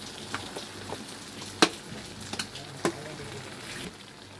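Spices frying in a pan for paneer butter masala, a soft steady sizzle running throughout with a few sharp crackles and spits standing out.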